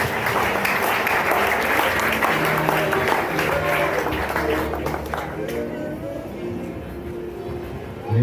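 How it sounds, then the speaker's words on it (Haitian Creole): Congregation applauding during the welcome at a church service, a steady crowd clapping that thins out toward the end, with voices mixed in. "Pendant la bienvenue, nous applaudissons ce que nous disons."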